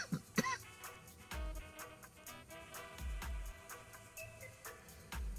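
A smoker coughs and clears his throat several times in a harsh, irregular cluster, close to the microphone and fairly loud, with brief pauses between bursts.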